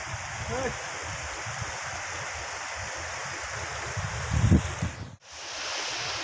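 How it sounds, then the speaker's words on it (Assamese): Steady rushing water of a river at the Bhutan border flows nearby, with wind buffeting the microphone and a brief louder splash or thump before a short dropout. "এখন নদী"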